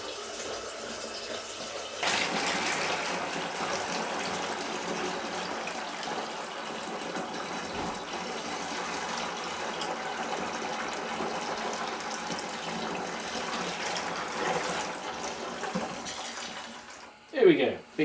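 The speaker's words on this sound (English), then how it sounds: "Big jugs don't take long to fill." Tap water gushes steadily into a big jug, a continuous splashing fill that holds at one level for most of its length before cutting off with a brief clunk at the end.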